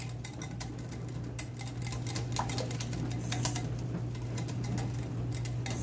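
A wire whisk clicks and scrapes in quick, uneven taps against a pot as a thickening mixture is stirred, faint and close, with a low steady hum underneath.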